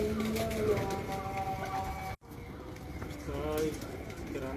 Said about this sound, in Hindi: झाड़ पे हैं थोड़े कबूतर